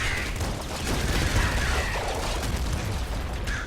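In the video game Nuclear Throne, enemy gunfire comes as a dense, rapid, crackling burst of shots mixed with mechanical game noise. It runs loud and continuous with no talking.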